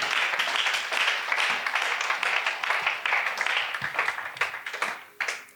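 A church congregation at a Sunday service claps to praise the Lord, producing loud, continuous applause with dense overlapping hand claps that swell and ease across the whole stretch.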